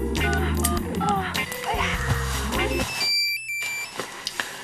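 A telephone number dialed, with a quick run of electronic keypad tones close up after a busy stretch of background sound, then quieter ambience with a few soft clicks.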